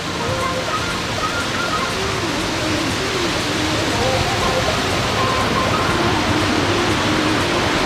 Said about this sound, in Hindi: और एक छोटा सा सामने वाटरफॉल भी है।